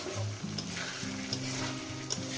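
Aloo posto being sautéed in a pan, a close, steady sizzle with soft stirring scrapes, accompanied by background music.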